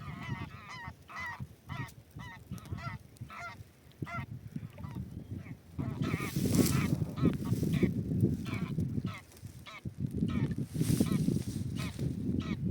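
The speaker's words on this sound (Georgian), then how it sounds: "ბატი გოგლა, ბატი ხმებს უსმინ" Geese honk repeatedly in bursts from a flock, loud and close, with a constant background clamor of many birds throughout.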